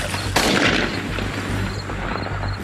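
A sniper rifle fired through a hastily prepared loophole in bushes, one sharp, loud shot followed by a decaying rumble and echo over steady background noise.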